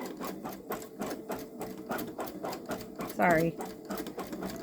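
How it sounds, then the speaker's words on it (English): Babylock Solaris Vision embroidery machine stitching long stitch embroidery, a rapid regular needle clatter with a steady mechanical hum, close by, with a brief spoken word partway through. "this is called long stitch embroidery"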